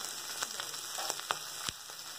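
Chili powder being stirred into fish curry frying in a pan: a steady, faint sizzle with a few soft scraping taps from the stirring, close by and without talk.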